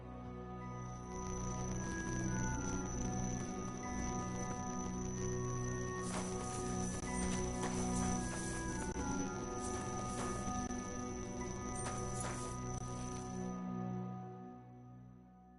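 Horse hooves clip-clopping along rocky paths in the video game Kingdom Come Deliverance II, a steady continuous walking rhythm of several horses, moderately close and soft, with faint outdoor ambience and no talk.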